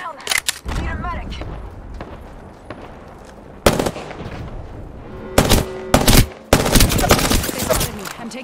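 Gunfire in the Apex Legends video game: bursts of sharp, loud shots and rapid automatic volleys come in clusters, separated by quieter stretches of game ambience.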